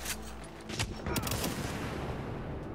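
Gunfire in the video game Tom Clancy's The Division, a burst of rapid shots in the first half followed by a dense, steady wash of distant battle noise at moderate level.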